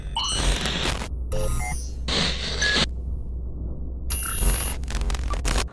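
Bright chiming bell-like notification tones ring in several separate bursts, loud and close with short gaps between them and no talking.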